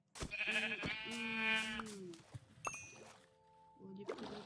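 Sheep from the video game Minecraft bleat in several wavering calls, with game clicks and a chime-like ding mixed in, fairly close and clear.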